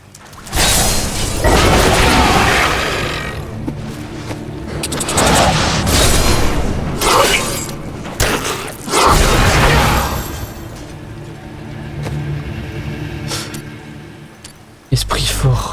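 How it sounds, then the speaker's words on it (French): Explosive bomb skill going off in the video game Diablo III, a run of loud booming blasts and crashes mixed with game effects over about fifteen seconds, with a voice talking under parts of it. "Bombe explosive."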